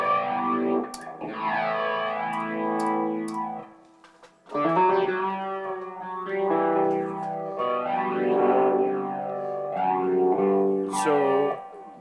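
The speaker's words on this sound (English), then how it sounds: "do you prefer this type of flanging sound to be like a faster flange" An electric guitar runs through a TC Electronic Vortex Flanger, and each sustained chord and note carries a sweeping, whooshing flange that rises and falls in slow cycles. The guitar is loud and close, with a short gap partway through.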